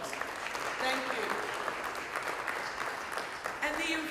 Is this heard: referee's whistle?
no